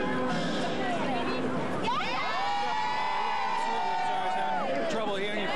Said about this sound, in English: The crowd's still jacked up